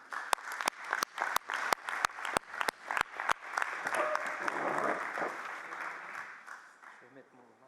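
Applause for eight newly elected deputy mayors at a French town council installation, opening with a few sharp claps that swell into steady clapping from the room, then slowly thinning out.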